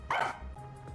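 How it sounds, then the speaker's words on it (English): A dog gives a single sharp bark in the video game Rain Code, close and clear, followed by a softer trailing yip over a low background hum. "I looked around and noticed Sugar barking at this room"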